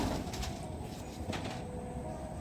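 Soft cooing from a young biscuit-coloured pigeon, a desi high-flyer, a few low burbling notes close by over a continuous background hum, with no voices.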